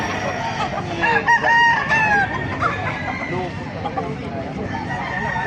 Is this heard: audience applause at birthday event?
no